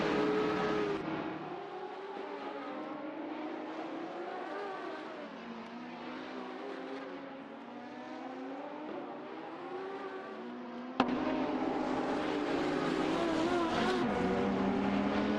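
Porsche race cars racing on a track, engines droning steadily with rising and falling pitch as they rev and shift, a sharp jump in loudness partway through as another car closes in.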